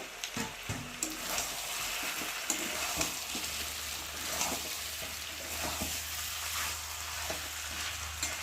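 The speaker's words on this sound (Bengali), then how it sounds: "আর এবার ভেজে রাখা আলুগুলো আর টমেটোটা দিয়ে একটু ভালো করে কষিয়ে নেব" Chicken sizzles in a pan with fried potatoes and tomato, a close, continuous frying hiss with frequent scraping and clattering strokes of a spatula stirring throughout.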